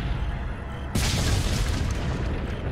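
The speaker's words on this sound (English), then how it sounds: "Just shoot it with a cannon." In Resident Evil 4, a cannon fires at a locked door and blasts it open: one sudden, loud boom that breaks into a long, broad roar of noise and debris.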